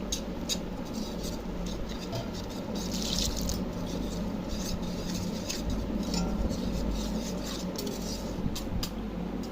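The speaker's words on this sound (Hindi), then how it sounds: "ये थोड़ा सा हम पानी ऐड करेंगे" Water pours into gram flour for kadhi curry gravy in a home kitchen, a steady close trickle and splash with light clinks of a utensil against the bowl, continuous throughout.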